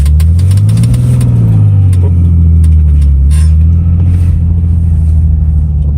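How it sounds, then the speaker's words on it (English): A car engine revving late at night, with a car whose throwout bearing is eight years old: a loud, close, steady low engine drone swells and eases in pitch as the revs rise and fall, with no talking. "a little bit too much revs there when it's midnight."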